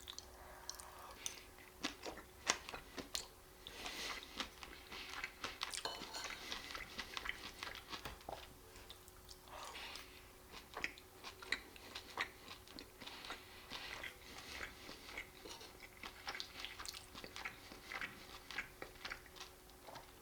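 Someone eats chicken curry and rice close to the microphone, with soft, wet chewing and faint clicks repeating steadily against a quiet background.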